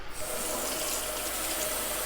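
Tap water runs steadily into a container to be added to beef stock for gravy, a continuous close rushing pour with a faint pitched ring, no voices.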